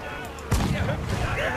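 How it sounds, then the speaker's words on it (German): A ship's cannon in the video game Assassin's Creed 4 Black Flag fires a single loud boom, followed by a rumbling decay and splashy game ambience. "So, dann machen wir hier mal ein bisschen mit der Kanone wieder."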